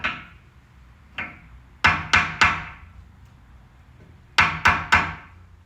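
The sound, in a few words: hammer tapping on metal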